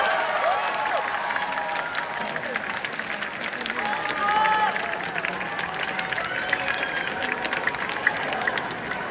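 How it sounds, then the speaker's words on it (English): A Hong Kong crowd at the 2023 Rubik's Cube World Championship cheers wildly and applauds, a dense continuous roar of voices and clapping that stays loud throughout, with shouts rising above it. "The Hong Kong crowd around us goes absolutely ballistic with national pride"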